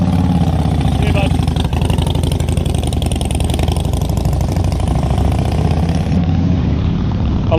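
Motorcycle engine running at a steady, loud, close idle with a continuous throbbing note and a slight shift near the end, with no other sounds.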